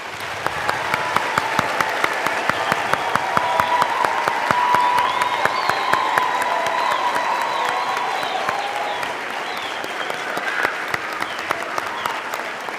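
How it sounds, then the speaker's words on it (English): A crowd at a graduation ceremony applauds steadily for several seconds, the clapping full and sustained, with a brief cheer rising midway before it gradually thins. "let's give our graduates another round of applause"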